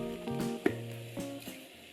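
Stir-frying in a pan for Thai chicken rice (khao mun gai), with white rice added: a steady close sizzle mixed with occasional scraping and stirring knocks, alone without voices.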